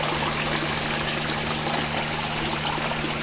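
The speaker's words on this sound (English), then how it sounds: "And I look at the waterfall." A garden waterfall trickles and splashes in a steady, unbroken wash of water noise, with a faint low hum beneath it and no voices.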